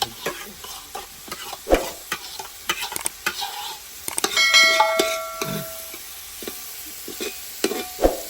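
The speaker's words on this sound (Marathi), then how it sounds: "कांदा मस्त परतून घे लाल होऊ दे" Chopped onions frying and being stirred in a pan while cooking Agari-style chicken, with repeated scraping strokes over a steady sizzle and a brief ringing metallic tone midway; no talking.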